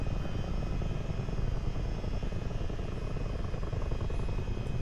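A Chinook helicopter flies in Microsoft Flight Simulator 2024, a steady, dense rotor and engine drone heard continuously from the cockpit at moderate volume.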